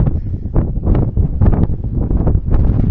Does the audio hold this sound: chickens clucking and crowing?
no